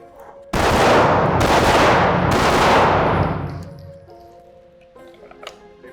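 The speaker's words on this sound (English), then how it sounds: "I'm going to shoot these" Three loud, close gunshots from a shooting drill against multiple targets, fired in quick succession with a long ringing decay, then fading to quiet with faint metallic clinks.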